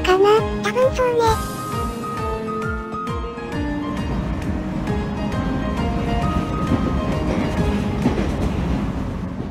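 A 415 series electric train on the Nanao Line rolls in with squealing brakes and rhythmic wheel clatter, then settles into a steady rumble close by.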